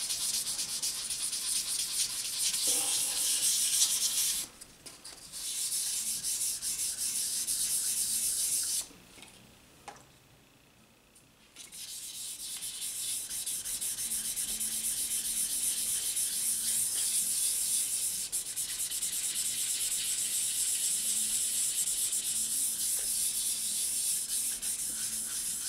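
Sandpaper rubs back and forth on aluminum in a continuous scratchy hiss, with short pauses and a brief gap before sanding resumes steadily.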